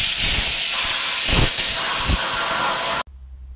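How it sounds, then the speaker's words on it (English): Plasma cutter slicing a steel sword cross guard and handle from 5160 spring steel: a loud, steady roaring hiss with low rumbling surges, running continuously for about three seconds before cutting off abruptly to a quiet hum. "this was cut out on the plasma cutter"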